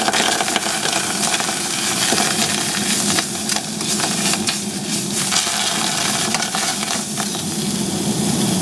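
Tomato paste frying in a pot alongside a currywurst sauce, a loud, steady, close sizzle with crackling and occasional stirring scrapes throughout, no voices.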